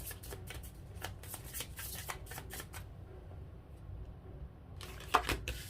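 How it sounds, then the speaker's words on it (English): Love story oracle cards are shuffled for a tarot reading in quick, soft riffling bursts, a cluster of papery flutters followed by a pause and a final sharper flurry of card snaps, close and fairly quiet. "Let's pull some love story oracle cards for you"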